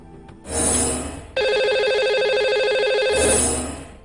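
Telephone ringing tone on a radio show line as the host dials a caller, with a short burst at first and then a long steady electronic ring that fades out, loud and alone.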